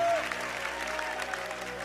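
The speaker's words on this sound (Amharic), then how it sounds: "አጨብጭቡ ለጌታ ክብር።" A church congregation claps together in praise, a steady wash of applause with a voice heard faintly through it.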